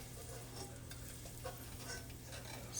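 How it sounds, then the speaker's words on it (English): Uncooked, non-parboiled rice stir-fried in a pot for Jamaican rice and peas gives a steady close-up sizzle, with scraping stirs and soft grainy rustling throughout. "sort of stir fry my rice a little bit, because it's not parboiled"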